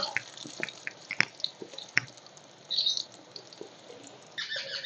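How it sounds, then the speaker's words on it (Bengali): Eggplant pieces rubbed with salt and turmeric fry in hot oil, giving sparse, faint crackles and sharp pops scattered over a quiet sizzle, with a brief busier burst of spitting. "তেল গরম হয়ে গেছে বেগুনগুলো লবণ আর হলুদ মাখিয়ে দিয়ে দিলাম বেগুনগুলো একদম লাল লাল করে ভেজে নেব"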